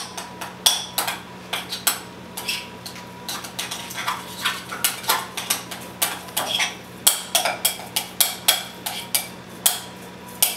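Fresh garlic being mixed in a bowl makes a steady run of close, bright clinks and scrapes, a utensil tapping the dish in quick rhythmic strokes over a low steady hum.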